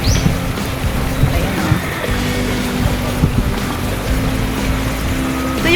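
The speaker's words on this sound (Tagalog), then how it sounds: "Maraming mga pump boat." Pump boats motor on the sea off a beach resort, a steady low engine drone mixed with wind and lapping waves, fairly close and continuous with no talking.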